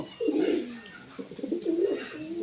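A pigeon coos nearby in a loft, giving two low, throaty rolling coo phrases separated by a brief pause, clear and fairly soft with no talking.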